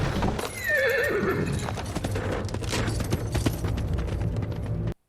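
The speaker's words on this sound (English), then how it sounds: "At least the horse escaped." Horse in a Rings of Power fantasy scene whinnies loudly with a rising, wavering call, then hooves clatter in a steady galloping clip-clop under a dense dramatic score that cuts off abruptly at the end.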